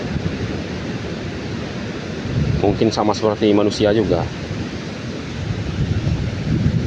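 Strong wind and big waves at sea form a steady, loud roar throughout, while someone speaks briefly in Indonesian over it.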